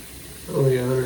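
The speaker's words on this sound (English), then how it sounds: "I'm filling up my sink with some water" Tap water runs into a bathroom sink while preparing for a safety razor shave, the steady flow starting suddenly partway through and continuing close and fairly loud, with no talk.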